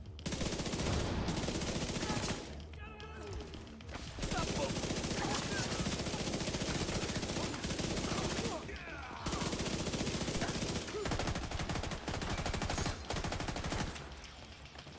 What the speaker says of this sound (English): this SMG9's going kind of crazy